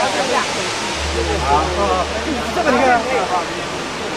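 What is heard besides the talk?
Huangguoshu waterfall roaring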